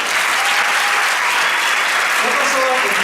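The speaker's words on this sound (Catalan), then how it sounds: "Un fort aplaudiment." Loud, sustained applause from a large audience, dense clapping at constant strength with a few voices rising near the end.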